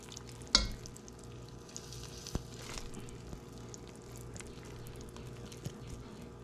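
A deer roast is flipped over in a pan of simmering gravy, with a sharp clank and squelch at the start, then a faint, steady sizzle and a few small knocks.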